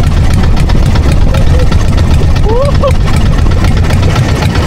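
A loud, steady boat engine drone with a constant low rumble throughout; faint voices are heard briefly beneath it.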